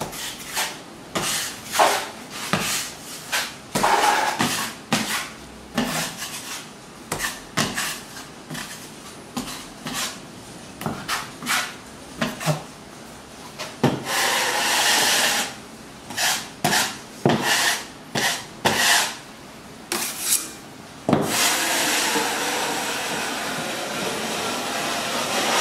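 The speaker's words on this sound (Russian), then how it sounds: "вот широким шпателем пройти этот шов" A wide putty knife spreads filler along a drywall seam, making repeated scraping, rasping strokes with short pauses between them and a longer continuous scrape toward the end, close and fairly loud, with no talking.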